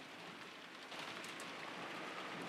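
Steady rain pours in a video game scene on an island during a typhoon, heavy and continuous with faint distant rumbling underneath and no voices.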